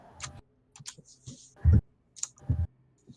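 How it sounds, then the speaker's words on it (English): A loud computer keyboard clacks in irregular bursts of sharp keystrokes, close and alone, with a few heavier thumps among lighter taps. "Your keyboard is very loud."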